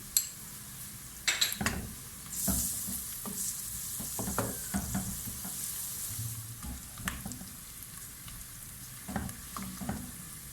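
Mustard oil sizzles and crackles in a pan as garlic paste goes in, with scraping stirring sounds and occasional clinks of a utensil against metal.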